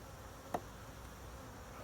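Honeybees buzz around a beekeeper in a protective suit during a hive inspection, a faint hum over steady outdoor background noise, with one bee passing close for a brief louder buzz.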